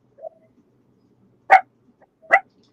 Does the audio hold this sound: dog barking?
yes